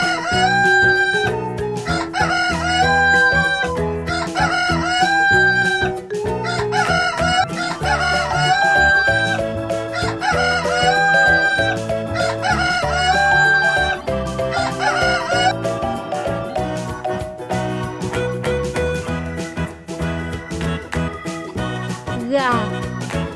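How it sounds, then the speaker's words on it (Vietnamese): A rooster crows several times through a bright, upbeat children's song, the calls repeated in a regular pattern and sitting under and among the melody rather than alone. "Con gà trống."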